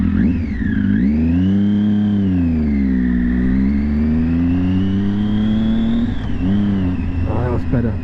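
A car engine revs up and down through gear shifts, its pitch swelling and dipping in smooth, loud, close sweeps with a whirring tone.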